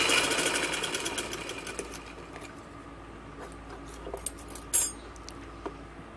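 A sewing machine stitches fine seams on a ladies' shameez, its faint mechanical whir fading quietly with a few small clicks and taps near the end.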